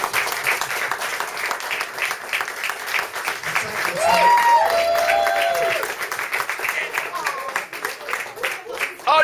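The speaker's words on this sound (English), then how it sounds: "give her a round of applause" An amateur theatre awards night audience applauds an award winner, sustained clapping under a faint voice and some whistling, holding steady before tailing off unevenly.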